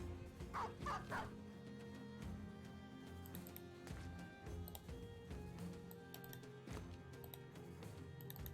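A dog barks and yips in the video game Battle Brothers, with a few faint, quick barks under busy game sounds.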